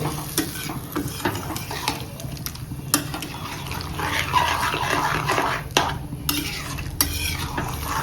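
A spatula stirs pork in sesame gravy in a hot wok, producing repeated scraping clinks over a continuous sizzle of frying at close range.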